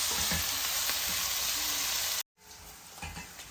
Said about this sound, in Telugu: ఉల్లిపాయ ముక్కలన్నీ గోల్డెన్ బ్రౌన్ కలర్ వచ్చే వరకు వేయించుకొని చూపిస్తాం